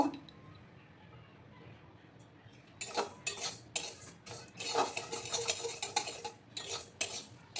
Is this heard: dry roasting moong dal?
yes